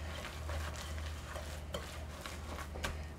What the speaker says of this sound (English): Mix it up thoroughly.